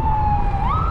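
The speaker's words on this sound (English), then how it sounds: "There's the sirens." An ambulance siren wails steadily and then rises in pitch as it passes along a road near the bayfront connector trail, loud and continuous over low traffic rumble.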